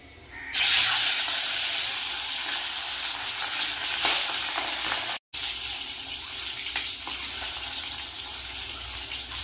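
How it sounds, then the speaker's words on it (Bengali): Peeled boiled eggs rubbed with salt and turmeric fry one by one in hot oil, giving a loud, steady sizzle with spitting crackle that holds throughout, broken only by a momentary dropout near the middle. "একে একে ডিমগুলো ভেজে নেব।"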